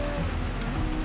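Rain during a Gran Turismo 7 endurance race at Dragon Trail Gardens at night, a steady dense hiss of rainfall with a low rumble underneath, continuous and fairly loud.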